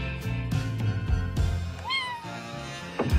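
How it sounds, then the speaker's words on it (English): A kitten gives a single clear rising meow partway through, amid quiet clattering and handling noises, with no talking. "kittens make everything better"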